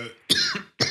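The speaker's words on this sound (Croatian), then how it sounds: "Kašljem" A person coughs in two harsh bursts, a longer rasping cough followed by a short second one, close to the microphone with no talk around them.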